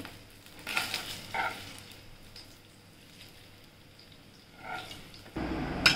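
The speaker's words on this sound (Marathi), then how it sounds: "आता आपण फोडणी केलेली ती भातावर टाकूया" Hot tempering with red chillies is poured over cooked rice for spicy curd rice, making faint, brief sizzling bursts and soft stirring noises close by.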